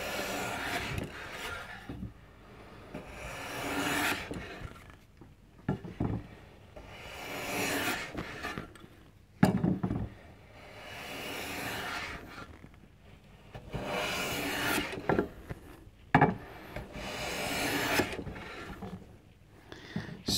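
A hand plane shaves full-length strips off a wooden guitar body blank in repeated long, rasping strokes. Each pass lasts a couple of seconds and is separated by short pauses, with a steady rhythm close to the listener.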